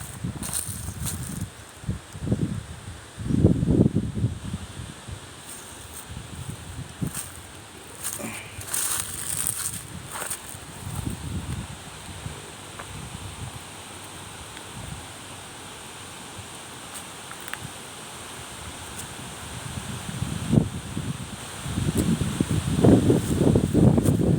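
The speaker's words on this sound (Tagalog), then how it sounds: "Hangin eh." Wind buffets the microphone in low rumbling gusts, loudest at the start and end, with a faint rustle in between.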